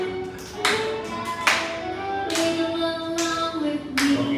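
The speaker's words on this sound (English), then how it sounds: "Clapping, everybody," A class of students claps hands in an English lesson, several short rounds of clapping bursts with brief pauses between them, fairly close and loud.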